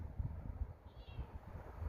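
A soft, brief meow from a cat, faint against low background rumble and handling noise.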